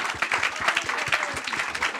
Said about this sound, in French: On peut les applaudir bien bien fort.